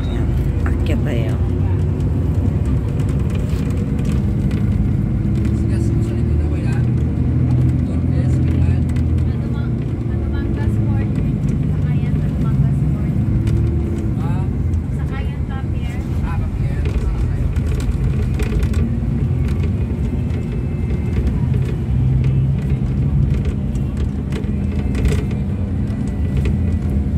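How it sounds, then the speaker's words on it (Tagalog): Heavy road traffic with many cars, a dense continuous rumble of engines and tires close by, steady and loud throughout, with people talking over it. "Daming sasakyan."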